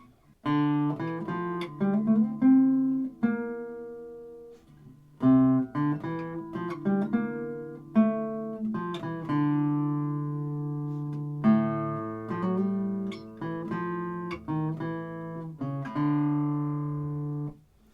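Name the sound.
classical guitar melody in the bass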